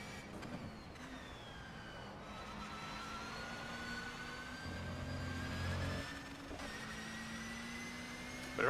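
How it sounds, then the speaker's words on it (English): Steady, high-pitched transmission whine from a BMW WTCC touring car in the racing sim rFactor 2 at Phillip Island, with a rising and falling tone over a low engine drone and no talk. "all you're hearing is transmission whine"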